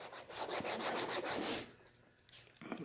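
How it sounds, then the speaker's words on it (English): Coarse number 50 sandpaper is rubbed over an oil-painted canvas in fast, rhythmic strokes that form a loud raspy scrubbing, then fades to quieter, lighter rubbing. "this is number 50 sandpaper. It's the roughest commercial grade sandpaper I think that's made."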